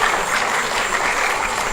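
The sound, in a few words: audience applause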